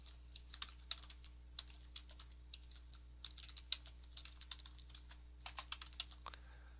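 Close, quiet tapping on a computer keyboard in irregular bursts of keystrokes with short pauses, over a low steady hum and no talk.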